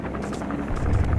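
Helicopter in the video game Metal Gear Solid V, a steady low rotor drone and hum at night, rising slightly in loudness as it goes.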